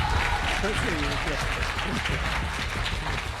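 An audience applauds at a live talk show debate, with steady, sustained clapping and crowd noise that continue at a constant level throughout, mixed with voices.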